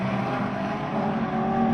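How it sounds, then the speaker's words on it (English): Race cars, including a Fiesta XR2 and a black Peugeot 205, roar past at Lydden Hill circuit, a steady blend of engine drone at moderate distance with no talk over it. "now the Fiesta XR2 of Jason Watkins getting involved"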